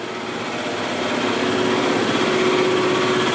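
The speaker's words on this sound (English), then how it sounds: "That's the air compressor." Steady mechanical drone of an air compressor running inside a corn flake production plant, constant and loud throughout with a faint high whine on top, no voices.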